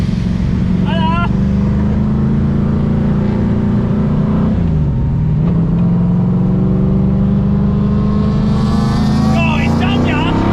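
HAKO race car with straight cut gears out on a track, its engine droning loud and steady the whole way with a brief dip in pitch midway, while voices speak over it.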